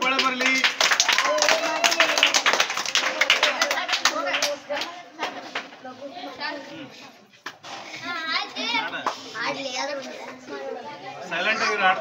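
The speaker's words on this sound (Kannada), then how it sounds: "ಚಪ್ಪಾಳೆ ಶಿವರಾಜ್ ಅವ್ರಿಗೆ ಜೋರ ಚಪ್ಪಾಳೆ ಬರಲಿ" Clapping for Shivraj at a birthday celebration in a school for physically handicapped children in Gabbur, Hubli, strongest in the first few seconds, mixed with constant children's voices and chatter.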